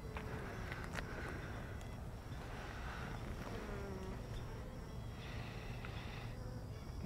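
A tiny honeybee swarm buzzing softly and continuously, a faint steady drone with occasional louder passes of individual bees close by, no talking.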